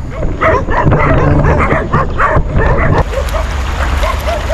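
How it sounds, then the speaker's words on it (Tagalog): Several dogs bark and yip nearby in rapid, overlapping bursts, loud and continuous throughout. "Ay pa talaga tayo tigilan ng mga aso."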